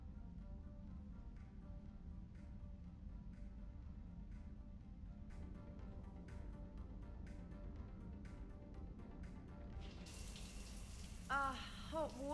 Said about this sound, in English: I figured you'd be more interested in a shower.